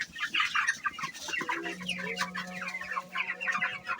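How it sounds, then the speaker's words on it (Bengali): 29-day-old backyard-raised chickens cluck and chatter continuously at close range, a busy overlapping flock with a steady low hum in the background. "মাত্র 29 দিনকার বয়সের মুরগি।"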